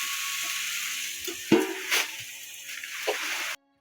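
Chili dropped into hot oil in a pan, giving a sharp burst of sizzling followed by a softer, continuous frying hiss with a few stirring touches, close and fairly quiet.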